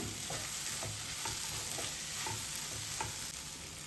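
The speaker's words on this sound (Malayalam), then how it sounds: "ഇനി ഒന്ന് ജസ്റ്റ് ഒന്ന് ഇളക്കി കൊടുക്കാം" Food being stirred in a hot pan while a healthy breakfast dish cooks: a steady close sizzle of frying with regular scraping strokes every half second or so, and no talking.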